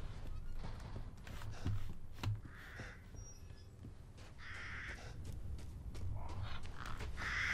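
A horse whinnies in short bursts among hoof clops and scattered game-like effects in the video game Resident Evil Village, moderately faint with no speech.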